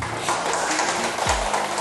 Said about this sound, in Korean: 오늘 소개해 주신 주만희님께 여러분 감사의 박수 부탁드립니다